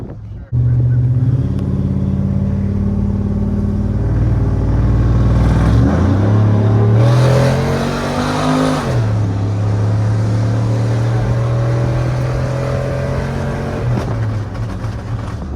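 A 1999–2007 Chevrolet Silverado truck fitted with solid motor mounts drives with a loud close engine drone, revving up and shifting midway before settling into a steady rumble.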